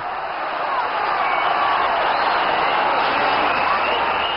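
A football stadium crowd applauds in a loud, steady roar of clapping and cheering that fills the whole stretch without pause.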